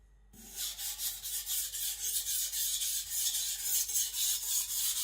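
A Sakon Ryuga gyuto knife strokes back and forth across a Naniwa Professional whetstone, each pass a close, steady rasping scrape that repeats in an even rhythm with no talking.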